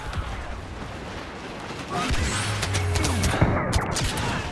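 A smart rocket launches and blasts in Star Wars Battlefront on Jakku, a rising whoosh followed by a heavy booming impact amid steady battlefield rumble and scattered gunfire.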